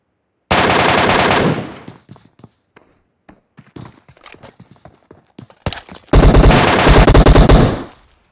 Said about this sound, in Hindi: ऊपर गोली चल रही है